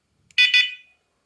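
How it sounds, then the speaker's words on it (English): A Dogtra 2700 T&B dog training collar beeper on its low locate tone gives two quick electronic beeps close up, then a short fading tail into silence. "that's the low, that's the low sound."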